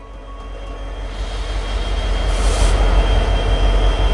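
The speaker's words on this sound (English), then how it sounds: "a freight train rolls by in the early hours of the morning" Freight train rolling past in the early morning, a deep rumble that swells steadily louder as it nears, with a faint high tone and a brief hiss in the middle, no voices.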